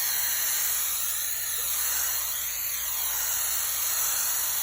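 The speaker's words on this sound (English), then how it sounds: "Spraying." Steady, close aerosol spray adhesive hissing continuously onto a T-shirt sleeve during a 2012 Toyota Prius V seatback repair, a broad even rush of spray with no talking.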